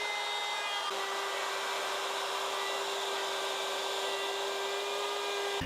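A router spins steadily while hollowing a guitar control cavity in a wood body, giving a continuous, loud, even whine with a constant pitch and no pauses, and nobody speaks.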